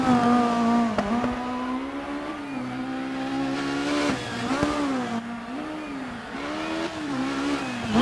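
A rally car engine in DiRT 4 screams at high revs on a Spanish stage, its pitch rising and dipping through repeated gear shifts and throttle lifts, loud and continuous with no talk.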